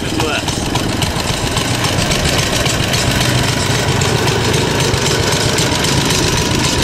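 A car engine with a 3/4 race cam idles loudly and close, a lumpy, choppy low rumble running steadily, with people talking over it.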